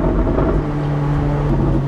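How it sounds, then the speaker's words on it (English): A Ferrari car engine hums steadily while driving, a loud, continuous low drone with a sustained tonal note and road rumble, heard from inside the car. "I always love starting my mornings hearing the sound of the Ferrari"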